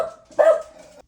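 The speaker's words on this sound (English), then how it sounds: "Sorry for the dog. Sounded a little grumpy in the background." One grumpy bark from a dog inside the house, brief and fairly close, with a low growling tone trailing after it.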